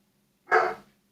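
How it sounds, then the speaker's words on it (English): A dog barks once in a garden, a single loud, close bark that fades quickly over a faint steady background hum. "What is up with that bloody dog?"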